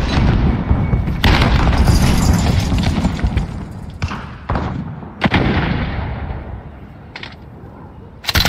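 Repeated heavy booms and gunshot bursts from a first-person shooter game, a grenade explosion among them, loud and dense with sharp impacts recurring across the stretch and low rumbling between blasts.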